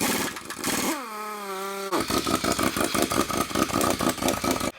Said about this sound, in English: So we're going to take the impact,